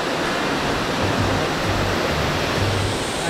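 Steady, loud roar of a waterfall rushing close by, a continuous broadband wash of falling water with no voices over it.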